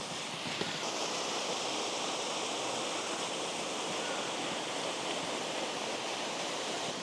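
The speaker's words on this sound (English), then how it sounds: "it's a stunning, stunning little waterfall" A small waterfall near Malham pours in a dense, constant rushing roar, close and loud, unbroken for the whole stretch with no talking.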